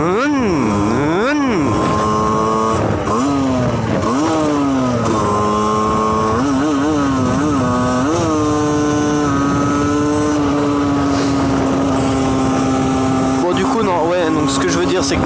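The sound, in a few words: motorcycle slowly accelerating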